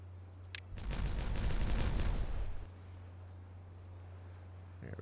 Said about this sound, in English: Wait for the beavers to go to bed, and we'll detonate this large area up here.